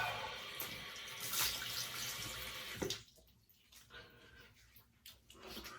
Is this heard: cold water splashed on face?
yes